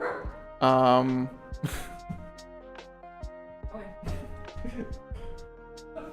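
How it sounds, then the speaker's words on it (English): A dog barks and yips in a living room, a loud burst of barking near the start followed by scattered softer yelps, all mixed with music and a voice talking over it. "There's a barking dog in my living room."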